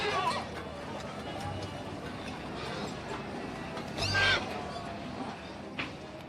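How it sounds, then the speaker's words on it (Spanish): Horses at a horse competition event, a steady outdoor crowd murmur with a brief neigh rising out of it near the middle and faint clip-clop in the background. "todo el mundo echa un vistazo a los mejores caballos"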